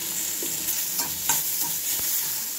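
Radish and tomato pieces frying in oil in a pan, a close hissing sizzle broken by quick stirring scrapes and clicks.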